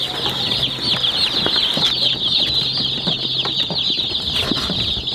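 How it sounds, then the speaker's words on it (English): Newly hatched chicks peeping in a brooder, a dense chorus of high, shrill cheeps running continuously close by, with a few faint bumps underneath. "We've got some chicks."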